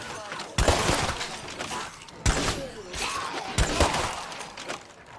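Gunfire in the video game State of Decay 2: several sharp loud bursts spaced a second or so apart, each trailing off, with people talking in between.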